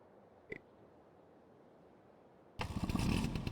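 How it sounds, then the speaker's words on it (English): A three-wheeled dump vehicle with a motorcycle engine in Farming Simulator 25 starts with a brief click, then after a quiet gap its engine bursts into a loud, steady running rumble. "This actually has a motorcycle engine, and you can see there are handlebars inside."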